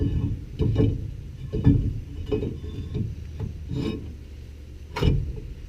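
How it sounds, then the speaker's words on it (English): A brake rotor fitted onto the rear end of a Ford F250, with repeated close metallic scrapes, rubs and knocks at an uneven rhythm, including one sharper clank near the end. "So and it's time to put the rotor on."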